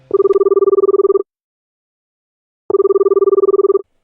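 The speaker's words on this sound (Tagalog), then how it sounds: "ay biglang may tumawag sa akin" A cellphone rings loudly with an incoming call: two bursts of rapid, warbling electronic trilling, each about a second long, separated by a silent gap.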